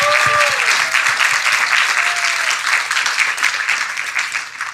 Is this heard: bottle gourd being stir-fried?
no